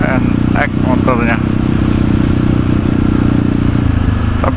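An NX motorcycle rides through jammed traffic, its engine a steady, close drone with road noise throughout and someone talking over it.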